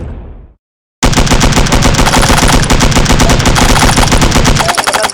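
Loud, sustained automatic gunfire from a video game, a dense rapid stream of shots running for about four seconds after a brief gap.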